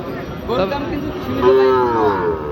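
At a cattle market, a Sahiwal bull calf or nearby cattle give a loud, drawn-out moo rising and holding, heard close amid general market bustle and a little speech.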